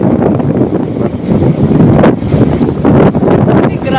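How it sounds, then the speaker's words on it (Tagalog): Strong typhoon wind roars and buffets at the seashore at dawn, loud and close, mixed with the pounding rush of sea waves in a continuous, gusting wash. "Sobrang lakas ng hangin, mga bi"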